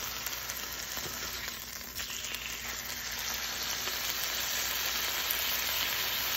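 Venison cube steak fries in butter, seasoned with salt and pepper, giving a steady, close, dense sizzle with a constant crackling hiss that holds evenly throughout, with no voices over it.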